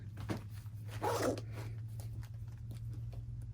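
A zipper on a sewn project bag is pulled in a quick, close rasp, followed by faint handling and rustling noises over a low background hum.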